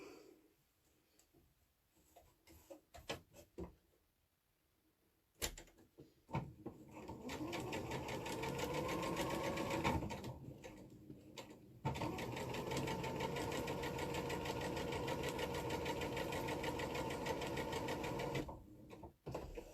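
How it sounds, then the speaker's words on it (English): A sewing machine stitches fabric for flying geese quilt units, running in two long, loud continuous bursts after a few quiet starts and clicks. "So now I've sewn directly on top of both of those lines."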